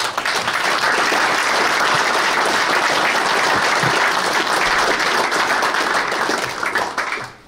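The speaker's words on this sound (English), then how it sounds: "could I ask a round of applause for all?" A large crowd at the final of the World Billiards Championship applauds loudly and steadily for several seconds before the clapping fades out.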